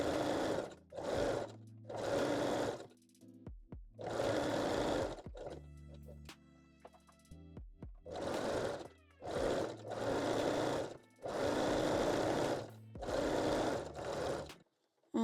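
Sewing machine zigzag stitching around bikini leg openings, close and loud, running in repeated bursts of rapid mechanical chatter separated by short quiet pauses.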